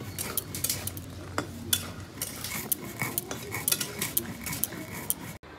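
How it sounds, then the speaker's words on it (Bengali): Spices for Bengali shukto are being ground by hand, with a steady run of close scraping and clinking strokes in an irregular rhythm over low kitchen background noise. "আমি শুক্তোর মশলাগুলো পিষে নিচ্ছি।"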